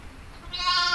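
A ewe on a Welsh farm during lambing gives one rising bleat close by, swelling over about half a second in an otherwise quiet moment.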